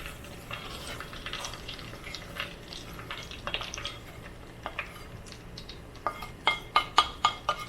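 Semolina poured into a pan with crushed cardamom pods and stirred for roasting, a soft grainy rustle with scattered light clinks, then a run of five or six sharp, evenly spaced utensil taps against the pan near the end, close and alone without talk.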